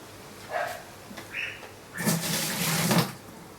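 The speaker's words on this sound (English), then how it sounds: "pour 500 ml of hot tap water into the bottom of the primary" Hot tap water poured into the bottom of a primary wine fermenter, a steady splashing rush lasting about a second, preceded by a few short clinks and scrapes of sanitised gear, close and moderately loud with no talking.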